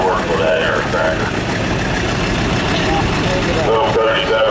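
An antique 1937 Allis-Chalmers WC tractor running in an outdoor antique tractor parade, its engine a steady mid-pitched rumble under someone talking nearby and general crowd noise.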